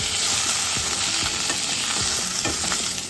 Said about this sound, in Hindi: बिल्कुल गर्म बर्तन में घी डालो ना तो वो एक बार को धुआं छोड़ता है।